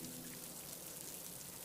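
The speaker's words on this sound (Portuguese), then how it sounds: "Olha o barulho da chuva." Rain falls as a faint, even hiss of many small drops, steady and unbroken for a moment with no voices over it.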